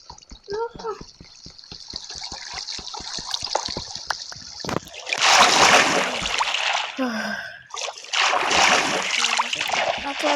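Water splashing in the Minecraft video game, with a rapid series of ticking steps giving way to two loud, broad bursts of splashing and churning water close by.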